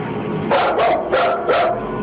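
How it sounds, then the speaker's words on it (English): A full-grown dog barks nervously in three distinct bursts, loud and close, while backing away toward a door; steady background noise fills the gaps. "when your full-grown dog is barking nervously and actually backing towards the door to get away"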